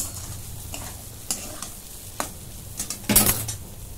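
Egg bhurji is sautéed in a pan, scraping and stirring sounds repeating at an uneven pace over a steady low sizzle, with a louder burst of clattering near the end. No one speaks.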